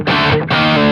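Orange OR15 amp pushing a distorted electric guitar tone, two short crunchy strummed chords ringing loud and close, the second sustaining to the end.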